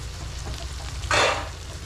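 Onions sautéing in a covered pan give a soft, steady sizzle, swelling into a brief louder hiss and stir at the midpoint before settling back, with no one talking.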